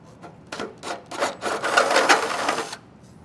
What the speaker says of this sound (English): just take a little grinding bit like this or a drill bit and just open up that hole a little bit